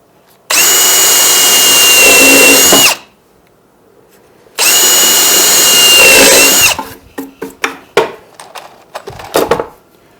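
A power drill drives 1.5-inch screws into glued wood with two loud whining bursts of about two and a half seconds each, followed by a quick run of short trigger pulses and clicks.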